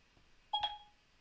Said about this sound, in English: That was my phone, thinking that I was talking to it when you heard that